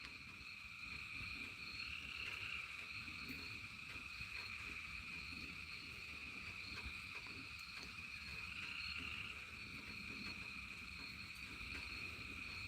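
Frogs croaking about 100 yards off in a Georgia bayou at night, a steady chorus mixed with high insect trilling, continuous and faint with no voices.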